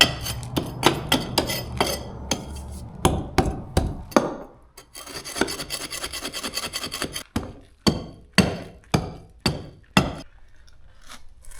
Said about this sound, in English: just gonna start chipping away at this wall here, getting some of this debris gone